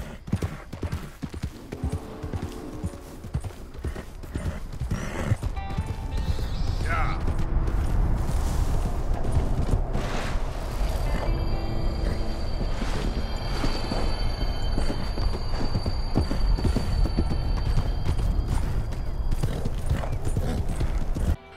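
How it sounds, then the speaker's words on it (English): Galloping horse hooves clip-clop steadily beside the ghost train in Red Dead Redemption 2, a spectral train heard near the state border around 2 a.m.; the hooves stay loud and continuous, with a rumbling train and faint whinnies blended in. "and this is the ghost train."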